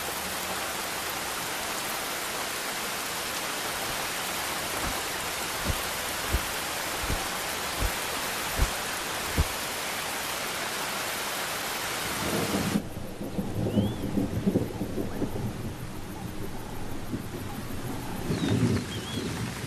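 Rain falls steadily over open grassland in a wildlife setting, a dense, loud wash of drops with several sharp thumping cracks early on, then easing into a lighter, patchier patter for the last seconds.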